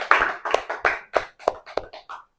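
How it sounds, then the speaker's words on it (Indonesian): Classroom students in an elementary social studies lesson clap in a short, rhythmic sequence of about eight distinct, evenly spaced claps, close and clear, slowing and softening slightly before stopping. "tepuk tangan dulu untuk kita semua."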